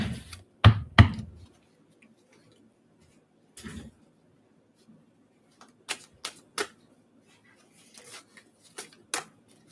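A deck of tarot cards is handled and straightened, giving several short papery taps and shuffling knocks in quick bursts, with quiet gaps between them and no talking.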